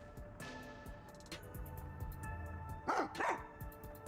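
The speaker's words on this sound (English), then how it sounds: "Who's this sweet little doggy?" A dog barking and yipping in the video game Rain Code, a few short barks over a soft game music backdrop, moderately quiet.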